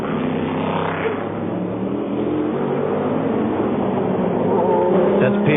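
Number 15 BMW V12 open-top race car at the 1999 Le Mans 24 Hours, heading toward a chicane: a steady, droning engine note runs throughout beneath continuous commentator talk.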